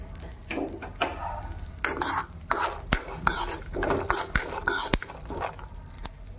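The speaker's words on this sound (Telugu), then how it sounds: "ఏమేమి నట్స్ తీసుకుంటారో అన్నీ వేసుకొనేయండి. వేసుకొని బాగా వేపుకొని" Mixed nuts fry in a pan while a utensil stirs and scrapes them, making repeated close metallic scrapes and clinks over a soft background sizzle, with no voices.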